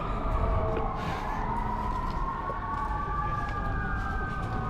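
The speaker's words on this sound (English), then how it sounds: "Sorry about the sirens." Emergency sirens wail continuously in Savannah, their pitch sliding up and down, heard over steady city traffic noise at moderate distance.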